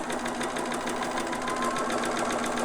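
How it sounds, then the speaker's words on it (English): A sewing machine runs steadily and close by, sewing big long basting stitches on a newborn romper with a fast, even mechanical rattle and no pauses. "I'm just going to go, and it's going to do these big long stitches"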